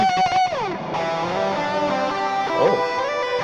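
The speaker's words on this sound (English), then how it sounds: "And we've got a reverb." Distorted electric guitar through an amp sim plugin with reverb added, sustained chords and bends ringing out continuously and fairly loud, with a wash of space behind the notes.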